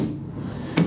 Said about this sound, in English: You then have both doors at the back open outwards, like so